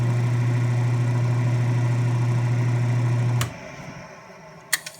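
A TAIG portable machine shop hums steadily at medium speed, a strong even motor drone that cuts off abruptly partway through, followed by near silence and a couple of sharp clicks.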